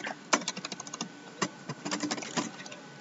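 Someone types a search query on a computer keyboard in irregular bursts of crisp plastic key clicks with brief pauses, close and moderately loud, with no talking.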